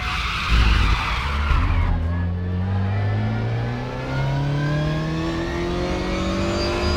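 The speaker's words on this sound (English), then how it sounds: "You're locking your fronts going into Druids." Front tyres squealing and scrubbing under heavy braking into Druids at Brands Hatch in Raceroom Racing Experience, a loud close skid over an engine that drops through gears and then climbs again.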